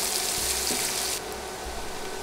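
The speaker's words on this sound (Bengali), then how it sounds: "পেঁয়াজ নেড়ে নেড়ে তেলে ভেজে নিব।" Chopped onion frying in oil over medium heat for a fish curry, a dense bright sizzle that drops suddenly in level partway through, with a faint stirring knock.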